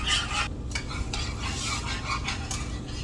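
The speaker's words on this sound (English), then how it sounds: "so I'm just going to keep stirring it" Sausage gravy is stirred in a pan as it comes to a low boil, a continuous soft scraping with gentle bubbling sizzle underneath, close and fairly quiet.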